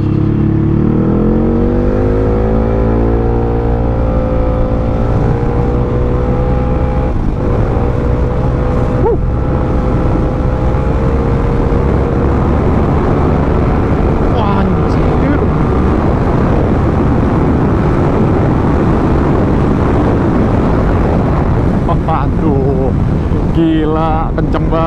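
A loud, close Yamaha XMAX 400 scooter engine revs and climbs in pitch as it accelerates, with heavy wind rush and a voice speaking over it.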